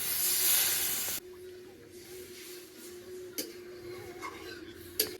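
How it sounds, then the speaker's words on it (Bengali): Coconut milk poured into hot masala for an egg curry, giving a loud sizzling hiss for about a second that suddenly drops to a quieter steady simmer with occasional faint pops and clicks. "বাদবাকি যে আমার নারকেলের দুধটা করে রেখেছিলাম সেই নারকেলের দুধটা দিয়ে দেবো"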